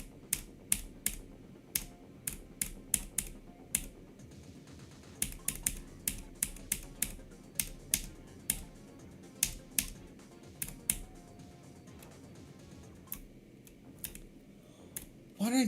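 Computer keyboard keys tapped in quick irregular clusters during a video game, sharp close clicks with short pauses between bursts, a faint voice now and then underneath.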